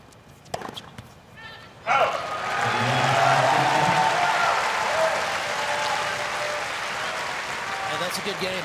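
A tennis crowd at the 2022 US Open breaks into loud, sustained applause after a few scattered thumps and keeps clapping steadily for several seconds.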